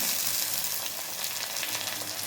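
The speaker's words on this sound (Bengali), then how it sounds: "এখন রসুন কুচিটা দিয়ে দিলাম, লঙ্কা কুচিও দিয়ে দিলাম" Chopped garlic and chili sizzle in a pan with onion, a steady, fairly quiet broadband frying hiss without pauses.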